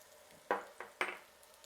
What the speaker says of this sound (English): I'm just going to add some more oil now and our onions.